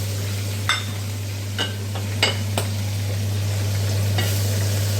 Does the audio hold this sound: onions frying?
yes